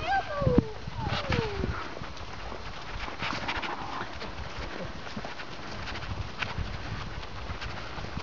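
Horse hooves clip-clop in a steady walking rhythm outdoors, fairly close, with people talking over them now and then.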